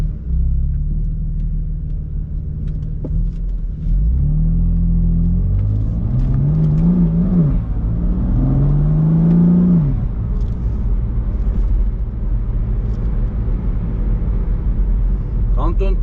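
A convertible car drives with the top down on roads in Switzerland. A steady engine rumble and wind noise rise in pitch through a few gear changes as the car accelerates, then settle into an even cruising drone.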